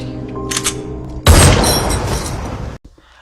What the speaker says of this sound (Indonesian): Himmat langsung menembak satu peluru ke kepala Anita hingga ia tewas